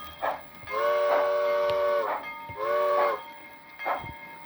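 A model steam locomotive's sound decoder (Soundtraxx Econami in an HO John Bull) sounds a whistle twice in long sustained blasts, each framed by sharp bursts of chuffing hiss, loud and close.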